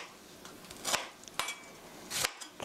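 A kitchen knife chops roughly through tomatoes on a board for chicken tomato soup, making three sharp, separate thunks over a soft background, close and fairly quiet.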